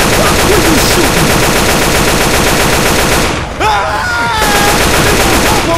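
Rapid automatic gunfire from the Left 4 Dead 2 construction-site level runs almost without pause, dense and loud, with a short dip midway and faint groaning voices mixed into the clatter.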